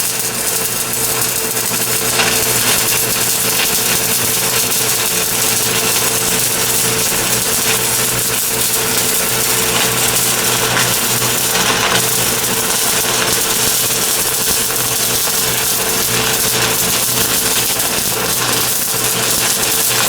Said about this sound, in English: we're welding plate metal here